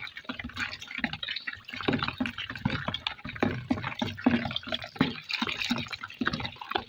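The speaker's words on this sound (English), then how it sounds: "I'm adding my water and I'm mixing." Water splashes and trickles steadily into a mixing bucket of liquid hand wash, with dripping, sloshing textures throughout and occasional knocks, fairly close and moderately loud.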